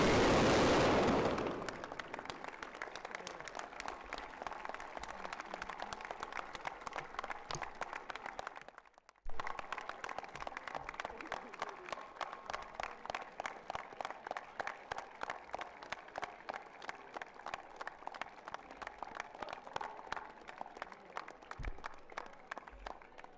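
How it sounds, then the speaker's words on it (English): An audience applauds at a school opening ceremony, with a long stretch of dense, sustained clapping from a large crowd that briefly drops away near the middle and then resumes steadily. "May we have a round of applause."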